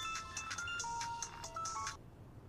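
A mobile phone ringtone plays a bright electronic melody of rapid repeated tones for about two seconds, then cuts off into quiet room tone.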